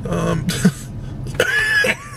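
A person with a cold nearby clears their throat and coughs a few times in quick succession, harsh and close.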